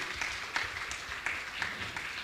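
An audience at a Jain religious gathering claps to honour guests, a faint, distant patter of applause with a few sharper claps standing out.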